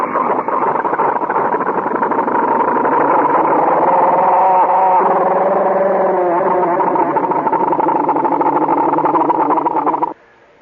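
A recorded engine roars as part of George Antheil's music, a dense, steady mechanical drone with a faint wavering pitch that runs for about ten seconds before cutting off abruptly.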